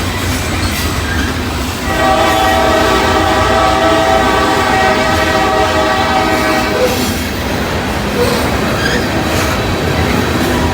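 A train rumbles steadily past a depot in Princeton, Indiana as its horn blares a sustained, multi-tone chord for several seconds, then fades back into rolling rail noise.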